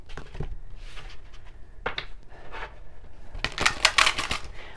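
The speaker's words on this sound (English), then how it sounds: "Let's do some shuffling." Close, irregular papery shuffling and soft slapping of an oracle card deck, with a denser flurry of crisp riffles toward the end.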